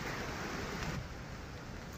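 Light rain drizzles outdoors in Hong Kong Park, a soft, steady, even hiss of fine drops with no voices, constant from start to finish.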